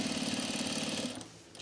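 A sewing machine top-stitches the seam of a pair of pants, a quick pulsing mechanical rattle that runs for about a second, then stops, leaving quiet.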